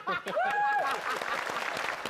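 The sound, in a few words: audience applause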